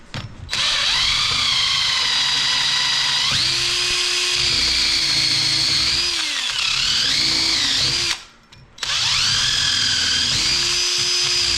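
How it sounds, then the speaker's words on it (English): A power drill bores into a 7/8 inch thick wooden board for an Adirondack chair, its loud motor whining and shifting pitch under load, then briefly stopping before spinning up again. "We're only drilling into a 7/8 inch thick board, so you gotta be pretty close to center."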